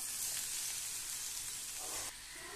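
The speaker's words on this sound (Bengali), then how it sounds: "কাঁচা লঙ্কাটাকে নেড়ে চেড়ে নিয়ে আরও 1 মিনিটের জন্য সমস্ত কিছু ভেজে নেব" Diced potatoes, spring onions and green chillies fry in a pan with a bright, steady close sizzle, briefly disturbed by a stir near the end, then settling back to a softer hiss.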